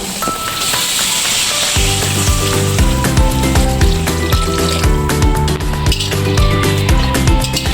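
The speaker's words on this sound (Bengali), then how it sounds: "জল দিয়ে দিয়েছি, জলে কিছুক্ষণ ফুটুক" Water poured into a hot pan of spiced potato masala for a fish curry with okra, first a loud hissing sizzle, then the liquid settles into a steady bubbling simmer and clinking, close up without talk.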